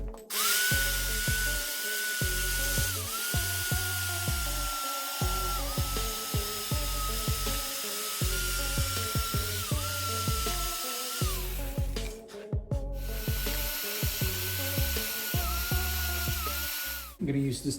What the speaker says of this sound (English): I'm gonna wire brush some sections of the frame